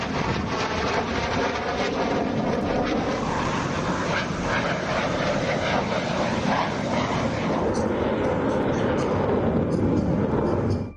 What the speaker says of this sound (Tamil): வந்தது தேஜஸ் விமானம்.